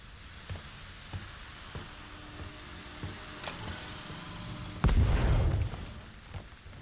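A single loud explosion in the video game Crisol, a sudden heavy blast with a rumbling, hissing tail lasting about a second, following a quieter stretch of faint ambient game noise with scattered small clicks.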